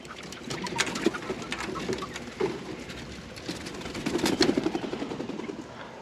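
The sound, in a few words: pigeons or doves flying out of a pen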